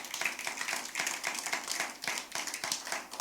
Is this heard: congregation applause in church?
yes